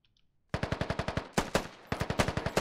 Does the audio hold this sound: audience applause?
no